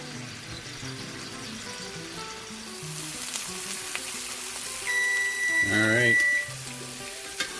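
A bone-in steak sizzles steadily in a hot pan, a continuous frying crackle that swells louder partway through, with brief utensil clinks and a voice speaking briefly at the start.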